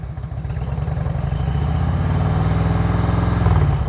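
A motorcycle engine revs during a group riding lesson in Uruguay. The close, loud, rumbling drone holds steady and climbs in pitch near the end, with no talking over it.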